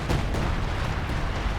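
Artillery bombardment in Company of Heroes 2 rumbles as a dense, continuous roar, with a few sharper impact thuds breaking through the heavy, steady barrage.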